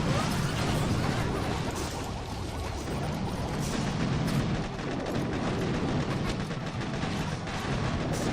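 Artillery cannons fire in a video game battle, heavy booming blasts and crashes repeating irregularly over a dense, continuous roar of combat.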